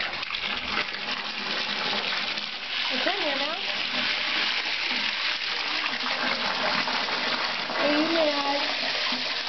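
Water for a pet being swapped out splashes and gushes steadily in a hissy wash of sound, with a cat's brief meows and a person talking over it.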